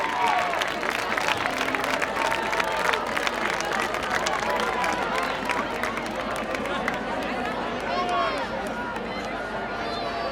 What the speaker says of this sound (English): Please give a huge round of applause to our freshmen as they go by our judging panel